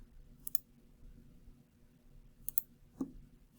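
Quiet mouse clicks at a computer while using Xcode, a few soft isolated taps spaced over a few seconds against faint room noise.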